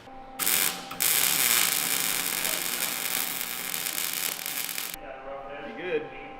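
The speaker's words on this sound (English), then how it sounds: "let's weld it" A butt weld is laid on a door hinge of a 1965 Mustang Fastback, a loud steady crackling hiss that starts abruptly, runs about four seconds and cuts off, followed by low shop hum.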